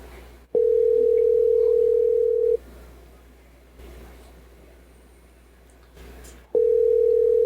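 Two long, steady tones ring over a phone line while a call waits to be answered, each lasting about two seconds with quiet gaps between them.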